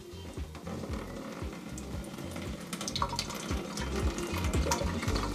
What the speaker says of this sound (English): Let's dump the water out of this and see what it looks like.